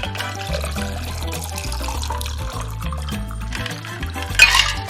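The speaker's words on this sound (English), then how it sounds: "Pour it into a glass that you've already prepared," Liquid pours and splashes into a glass over ice, partly masked by steady background music, with a brief brighter splash near the end.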